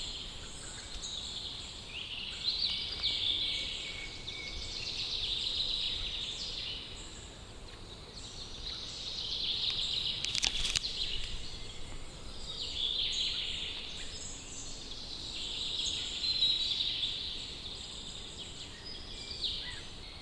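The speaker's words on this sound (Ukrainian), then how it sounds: "ви тільки послухайте, як тут пташки співають" Birdsong chirps and trills continuously through a quiet forest ambience, moderately distant, with no talking.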